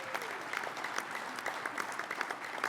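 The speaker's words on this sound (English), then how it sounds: "Give them a round of applause, please" Audience applause at a Unifor Prairie Regional Council meeting, a sustained crowd of hands clapping steadily throughout, moderately close and fairly even in level.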